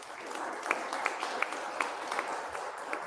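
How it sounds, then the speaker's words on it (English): Faint, sparse applause rises after a presentation at a Great Salt Lake advisory council meeting, a small group clapping quietly with a few sharper individual claps standing out. "let's give a round of applause."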